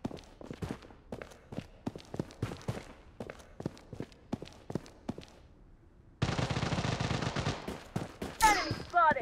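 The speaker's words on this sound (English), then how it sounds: "Taking fire!" Gunfire from the shooter game Bloodstrike, played on an Anbernic RG505 handheld: a run of sharp, evenly spaced shots for several seconds, then a dense, continuous burst of automatic fire with crackling impacts near the end.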